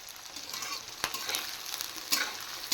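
Onions frying in a pan, a steady crackling sizzle with occasional sharper stirring scrapes and clicks, close and moderately quiet, no talking.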